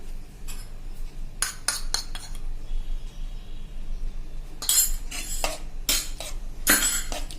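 A spoon stirs amchur powder into curd chilli curry in a pan, giving bursts of metallic clinks and scrapes against the pan with quiet pauses between. The sounds are close and there is no talk.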